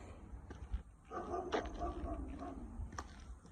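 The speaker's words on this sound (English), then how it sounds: "That's a big old dog." A big dog barks a few times at some distance, the woofs soft and partly masked by low rumbling background noise.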